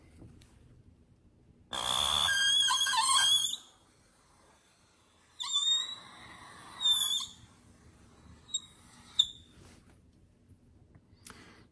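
A musical tone sounds an octave higher than before, heard as one long bright tonal burst followed by several shorter, quieter ones separated by near silence.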